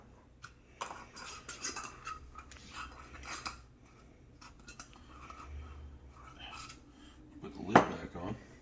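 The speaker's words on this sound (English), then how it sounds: "put the lid back on. Just stir it up a little bit." Shrimp tossed with blackening seasoning in a lidded plastic container gives off light, scattered clattering and rattles, fairly faint, ending in one sharper clack near the end.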